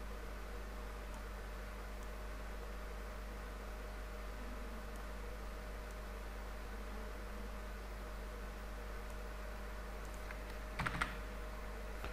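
Faint, soft keypresses on a computer keyboard sit under a steady hum and hiss of room noise, with one brief louder clack near the end.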